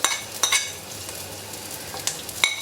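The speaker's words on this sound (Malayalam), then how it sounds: "ഈ ഉള്ളി അങ്ങ് ഇട്ട് കൊടുക്കാം, ഈ ഇഞ്ചി അങ്ങ് ഇട്ട് കൊടുക്കാം," Sliced onion and ginger drop into hot oil with browned fenugreek seeds for a ribbon fish curry, giving a steady low sizzle broken by a few sharp stirring clinks of a spoon against the pan.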